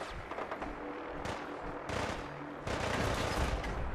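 Gunfire in Fallout 4, several bursts of shots over a constant noisy battle background, fairly loud with a few short breaks between bursts, and no voices.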